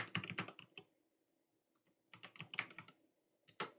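Someone types on a computer keyboard close up, with quiet rapid keystrokes in two bursts separated by a pause and then a final few taps, and no talking.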